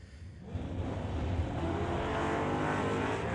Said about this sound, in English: Nice little lift off for both these cars.